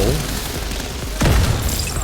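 A grenade detonates in the Division 2 video game during a Hollywood global event fight near a van: a sudden heavy boom about midway, its rumble ringing out over the steady din of gunfire and game noise.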